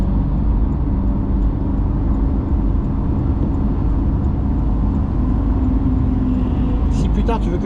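A Porsche on the Magny-Cours circuit in wet conditions holds fourth gear, its engine a loud, steady drone close up inside the car, with people talking over it throughout.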